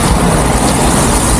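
A road vehicle passes on a snowy street in Greenland, a loud steady broadband rush of engine and tyre noise filling the whole moment, close by with no talking.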